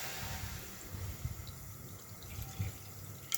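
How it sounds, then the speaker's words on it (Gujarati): Plain water is poured into a pan on a lit gas stove while making a black grape mocktail, a soft, steady trickle with a few drips, faint and close, with no talk. "હવે સૌથી પહેલાં હું સાદું પાણી એડ કરું છું."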